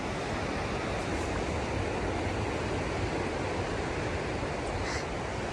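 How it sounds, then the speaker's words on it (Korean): Ocean waves crash against the base of a high cliff beside a coastal railway line, heard from the clifftop as a steady, loud, broadband roar of surf with no talking. "이게 지금 이 파도가요 이렇게 치는 게 이게 보이시죠?"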